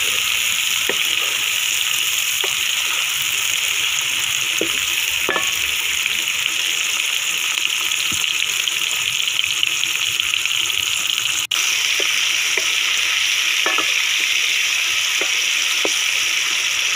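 Peeled tomatoes going into a hot pan of aloo methi masala, a potato and fenugreek curry, set off a continuous close sizzle and frying hiss broken by scattered stirring clicks and scrapes, with no voices.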